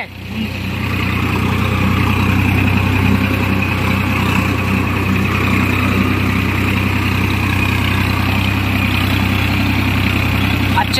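Tractor engine working under heavy load in four-wheel-drive gear on a farm field, a loud, steady low rumble that holds constant throughout after a brief swell at the start, with no voices.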